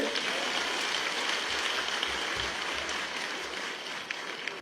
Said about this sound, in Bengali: একটা হাততালি দেন তো জোরে।